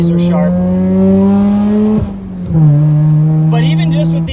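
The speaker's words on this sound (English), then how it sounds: "You can just keep revving it." A Mazda RX8 rotary engine revs loud and close while driving, holding a steady high whine, dipping briefly as it shifts, then climbing again.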